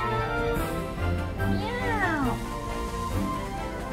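A cat meows in the Pokémon Violet video game, a short drawn-out wavering cry heard under a person talking over the game sounds.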